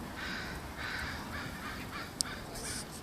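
Crows caw repeatedly at a distance outdoors, faint harsh calls in a loose rhythm over quiet background noise, with one brief click.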